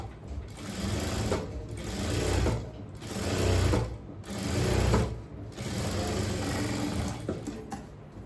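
Sewing machine stitching along a fabric edge for a scallop neckline, a close mechanical whir running in bursts with short pauses between them, alone with no talking.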